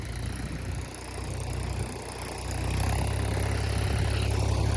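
Tractor engine revving up while stuck in deep mud in a waterlogged pit, a steady low rumble that builds in loudness toward the end, close and without speech.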